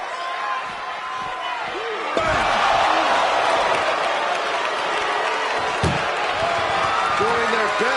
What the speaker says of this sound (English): Doing their best just to shut that first door.